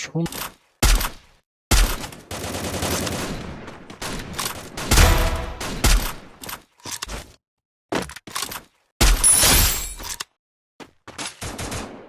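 Gunfire in a Free Fire tournament match, with sniper shots: sharp cracking bursts and rapid automatic volleys separated by brief silences, loud and close, with commentary between them.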